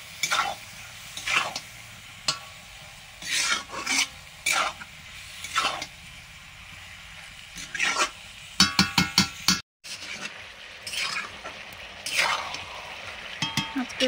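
Meat cooking in an iron wok, repeated scraping stirs against the metal over a low sizzle, close, with a rattling clatter of the pan partway through and no talking.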